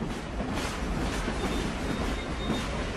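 Train sound on a railway, a continuous rumbling roar with faint rolling clatter, steady and fairly close with no voices.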